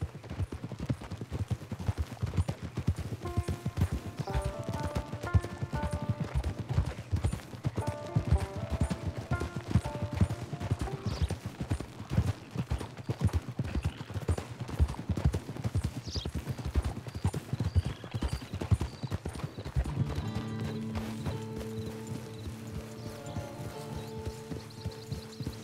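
Horses' hooves clip-clopping steadily in a video game, a continuous rhythmic trot close by with occasional game music tones and faint background effects.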